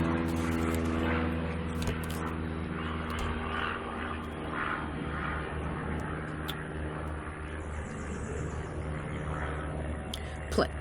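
A small propeller plane drones overhead at a distance, a steady buzzing hum that persists throughout while someone talks over it.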